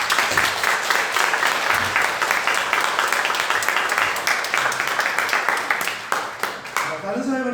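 A church congregation applauds to welcome four missionaries, dense steady clapping filling the room at close range and holding evenly, then tapering off at the end.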